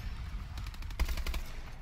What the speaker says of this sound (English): everyone's shooting, everyone's firing, there's explosions going down